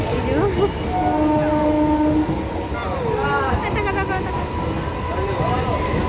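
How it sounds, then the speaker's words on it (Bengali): Inside a moving passenger train, a continuous rumbling roar fills the carriage, with whining wheel squeals and a brief horn-like tone on top and indistinct voices chattering in the background. "এখন উঠে গেছি ট্রেনে। তো এখন আমরা সবাই ট্রেনে বসে আছি।"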